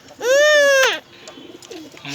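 A pet pigeon near a small baby gives one loud, sustained, tonal coo close to the microphone. Faint, scattered soft sounds follow in the background.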